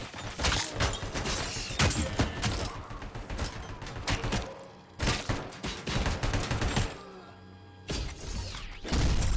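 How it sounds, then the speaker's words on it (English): Enemy gunfire in the RoboCop: Rogue City video game, loud rapid bursts of shots and heavy impacts in several volleys separated by short pauses, with crashes and thuds between. "Is he shooting at me?"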